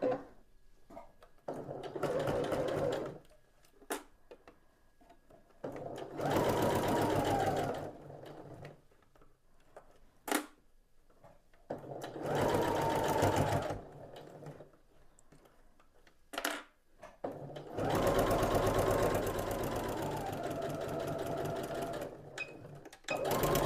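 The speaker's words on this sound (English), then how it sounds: "we're going to go and sew along here on all four corners" A sewing machine stitches the corners of a fabric storage bucket with about a half-inch seam, running in several steady bursts of even buzzing separated by pauses and clicks, close and clear.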